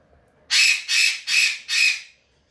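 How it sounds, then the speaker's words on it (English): A pet parrot squawks indoors, four loud, harsh, evenly spaced calls in a row, close by and with nothing else around them. "we have a parrot who wants to wake everybody in the house up."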